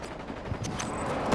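Gunfire in the shooter Battlefield 2042, a short burst of mid-distance shots over steady battlefield noise, fairly quiet and alone.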